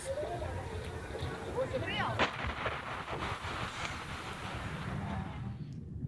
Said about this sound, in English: a devastating explosion, and one that created such a powerful shockwave